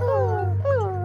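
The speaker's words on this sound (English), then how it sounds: "And they were making sad puppy noises, too." Sad puppy whimpering, with high, wavering whine-like tones that rise and fall in two close, sustained cries over a steady low hum.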